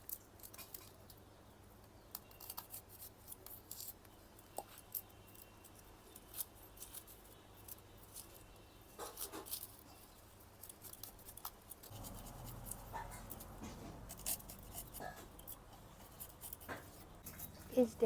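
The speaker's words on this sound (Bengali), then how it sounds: "এখন পেঁয়াজ, আদা, রসুন কেটে নেব।" Onion, ginger and garlic are cut by hand in a home kitchen, giving faint, close, irregular knife taps and scrapes that grow a little busier partway through.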